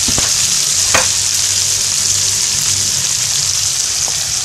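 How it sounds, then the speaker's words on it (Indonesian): Red chili, bird's eye chili, shallots and garlic sauté in hot oil for spicy sambal, a loud, dense, continuous sizzle close up with a couple of faint utensil clicks. "Tumis cabai merah, cabai rawit, bawang merah, dan juga bawang putih"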